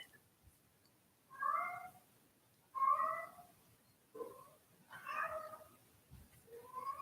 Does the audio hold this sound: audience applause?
no